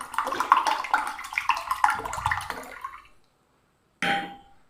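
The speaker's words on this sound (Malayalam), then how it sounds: "നമ്മൾ ഐസ് വാട്ടറും കൂടെ ഒഴിച്ചു കൊടുക്കുന്നുണ്ട്." Ice water poured into a bowl for a sweet drink: a steady splashing pour lasting about three seconds, a brief silence, then a short final splash.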